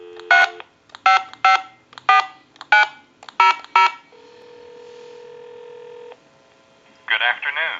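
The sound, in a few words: touch-tone telephone dialing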